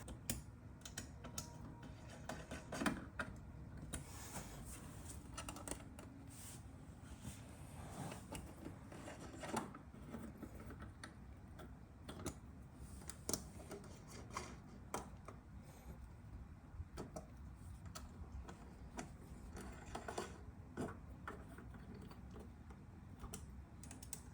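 A tiny hex wrench tightens bolts on a Herman Miller Fully Jarvis 60x27 walnut laminate standing desk, giving faint, continuous small clicks and metallic scrapes close by, with no talking.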